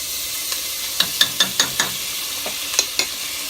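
Sofrito sizzles in a pot as a spoon stirs it quickly, a steady frying hiss under a string of sharp scraping clicks from the spoon against the pot.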